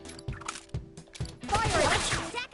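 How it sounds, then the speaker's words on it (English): SMG gunfire in the Persona 5 Tactica video game rattles out as a rapid burst near the end, mixed with game effects. A voice talks over parts of it. "Oh, she's got an SMG."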